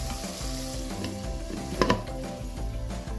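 Ginger-garlic masala frying on low flame in a clay pot, a steady close sizzle with a couple of brief louder crackles or stirring scrapes midway.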